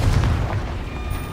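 A Confringo spell explosion from the Hogwarts Legacy video game, a single short, loud low boom that rumbles and fades within about a second.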